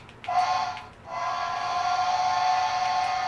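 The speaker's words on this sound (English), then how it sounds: "I'll blow the whistle real quick as well." A Bachmann model steam locomotive gives a steady, hissing whistle in two bursts, a short toot followed by a long sustained blast, loud and close.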